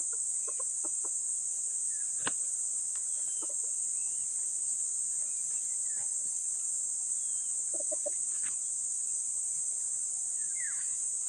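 Chickens cluck in short, scattered bursts at moderate distance over a steady high insect drone, with a few clear calls standing out in a quiet rural setting.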